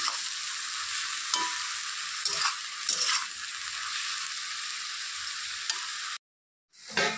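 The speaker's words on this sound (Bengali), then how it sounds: "এখন দেবো হচ্ছে হলুদ, আবার একটু নেড়ে চেড়ে দেবো এটা।" Leafy greens frying in a pan with salt and turmeric, a steady loud sizzle broken by a few scraping stirs, ending in a sudden cut to silence before the sizzle briefly returns.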